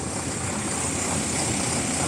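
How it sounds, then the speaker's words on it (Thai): A propeller airplane engine at an airport, a steady broadband roar and whir that holds constant and fairly loud throughout, with no voices over it. "เนี่ยฮะเครื่องบิน"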